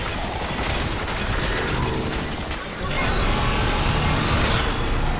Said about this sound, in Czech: Co je tady zase, co tady po mně střílí?